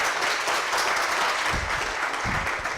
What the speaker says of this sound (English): if you would please have a round of applause for our guests joining us this afternoon